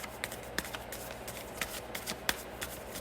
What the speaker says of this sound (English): I'll go ahead and shuffle live